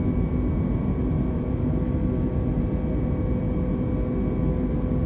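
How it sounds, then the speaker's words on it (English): A steady, loud airplane engine drones in the Flight Simulator video game, an unbroken even hum with no talk over it. "I'm flying a plane!"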